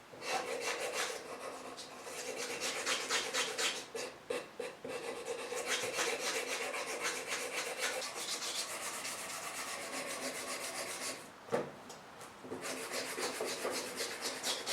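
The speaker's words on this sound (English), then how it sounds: "Then some 220 grit sandpaper." A knife handle is sanded by hand with 220 grit sandpaper, giving a steady, close rasping rub in long continuous strokes with only a couple of brief pauses.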